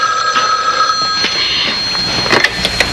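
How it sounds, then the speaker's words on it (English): A telephone rings indoors in a domestic scene, its bell tone repeating through a short noisy stretch with faint background sounds. "Is anybody going to answer the phone?"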